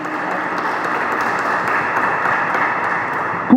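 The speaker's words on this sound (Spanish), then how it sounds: "Quiero que la recibamos con un aplauso muy fuerte" An audience in the Durango cathedral claps steadily, a dense even wash of applause that holds for a few seconds before a brief sharper sound at the end.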